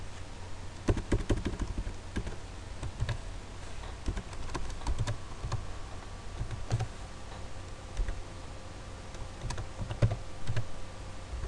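Text is typed on a computer keyboard in quick bursts of close, crisp key clicks with brief pauses, and no one speaks.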